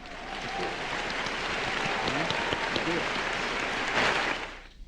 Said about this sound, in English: we have to go ahead and give you a clap.